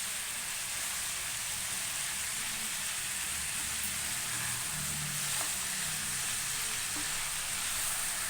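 Tomatoes fry in a pan for a home-style vegetable kurma, giving a loud, continuous sizzle with a dense crackle that stays close and unbroken throughout, with no voices.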